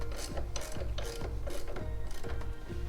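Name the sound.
wrench loosening the axle nut on a Honda Trail 125 motorcycle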